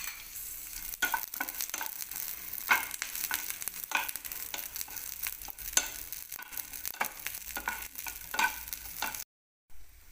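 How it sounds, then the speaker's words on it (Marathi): Green chilies roasting in a pan with half a spoon of oil, a steady soft sizzle broken by frequent stirring clicks and scrapes, with no talking. "अर्धा चमचा तेल टाकून घेऊयात, म्हणजे मग त्या मिरच्या छान भाजल्या जातील"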